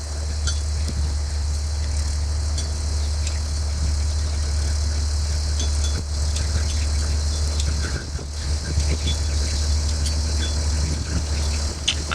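A John Deere 4240 tractor engine runs steadily while hauling a cart, a continuous low mechanical drone with constant loudness and no talk throughout.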